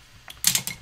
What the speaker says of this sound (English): and then I'm just going to score this down the center